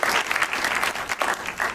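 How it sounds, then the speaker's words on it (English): Audience applause at an interfaith community talk, a dense, steady burst of clapping from a room of listeners filling the short moment on its own, fairly close and even in loudness. "you can clap at that."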